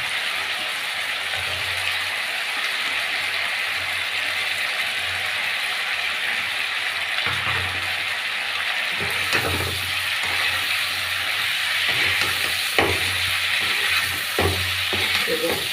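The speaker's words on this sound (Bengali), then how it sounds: "আমার আলু আর পটল ছোটো ছোটো করে কাঁচা আছে এখানে দিয়ে দিচ্ছি এবার ছেড়ে দিলাম এর মধ্যে" Small raw pieces of potato and pointed gourd fry in a hot pan with a constant close sizzle and occasional stirring clatter, no talk over it.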